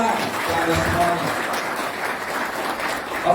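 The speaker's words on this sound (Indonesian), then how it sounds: "Tepuk tangan untuk Anda semuanya." Audience applause at a motivational business seminar, a steady broadband wash of many hands clapping that holds at an even level for a few seconds, with a voice faintly mixed in.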